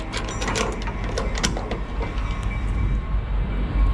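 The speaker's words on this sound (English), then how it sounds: "the train is loud" A train rumbles past loudly and continuously in cold rain, heavy low roar with rattling clatter and metallic clanks, close by and steady throughout.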